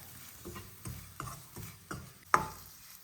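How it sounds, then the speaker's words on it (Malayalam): Spice powders, black pepper and garam masala, being stirred into masala in a pan with a spoon, a quiet series of scraping strokes about every half second, ending on one sharper clink against the pan. "ഇതെല്ലാം ഇതിലേക്കിട്ട് നന്നായിട്ട് ഇളക്കി യോജിപ്പിച്ച് കൊടുക്കാം"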